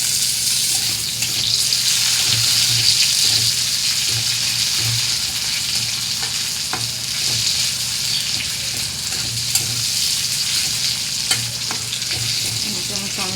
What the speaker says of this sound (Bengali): পেঁয়াজটা লাল লাল করে আমি ভেজে নিয়েছি। এর মধ্যে আমি টমেটো দিয়ে দেবো।